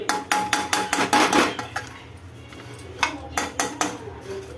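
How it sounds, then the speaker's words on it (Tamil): A metal spatula clangs and scrapes against an iron kadai while mixing masala pori, loud rhythmic strikes in two quick bursts separated by a quieter pause. "நீங்கள் இரும்பு கடாய் இருந்துச்சுன்னா நம்ம கடையில் இது பண்ணுவாங்க இல்லையா, ரோட் கடையில், அந்த மாதிரியே சத்தம் வரும்"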